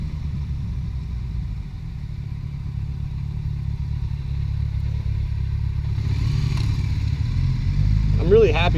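A motorcycle rides along a road, its engine a steady low drone with wind rumble that grows slightly louder toward the end, up close and continuous without talk.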